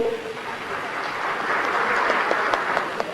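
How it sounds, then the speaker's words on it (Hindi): An audience at a Bhopal inauguration and foundation-stone ceremony gives a dense burst of clapping for Madhya Pradesh Chief Minister Shivraj Singh Chouhan, steady and loud throughout. "मध्य प्रदेश के यशस्वी मंत्री मुख्यमंत्री माननीय शिवराज सिंह चौहान जी के लिए जोरदार ताली"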